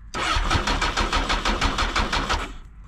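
A Honda MT-10 motorcycle engine cranks during a jump start, with fresh battery power feeding the starter. It makes a steady, rapid, rhythmic churning for about two and a half seconds, close and loud, and never catches before stopping.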